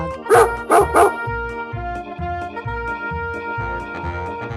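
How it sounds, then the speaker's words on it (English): A dog lets out three quick, loud barks in the first second, followed by steady, rhythmic backing music with no further barking. "Dog."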